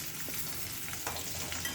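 Potatoes fry in a pan with a soft, continuous crackling sizzle, fairly quiet and steady with a few small pops.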